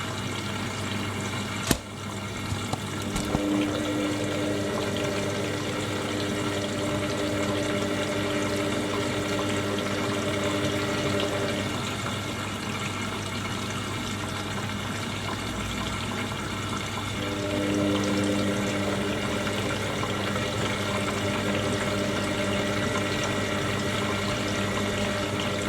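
Water pours steadily into the drum of an Indesit IWDC6125 washer dryer during a cottons 70ºC wash, a continuous close rush with low humming from the machine rising and dropping in stretches, plus a sharp click near the start.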